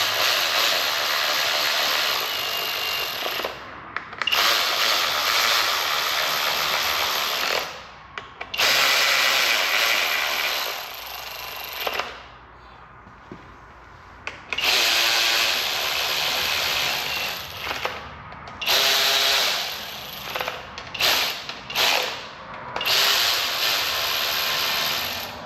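Power tool running down a bolt on a 3.5 EcoBoost engine during intake and valve cover assembly, whirring in long loud bursts with short pauses and ratcheting stops between runs.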